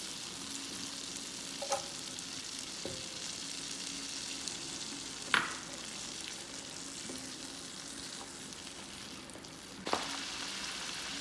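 Onions sizzle steadily in butter in a hot pan, a continuous crackling hiss with a few sharp pops and clinks scattered throughout.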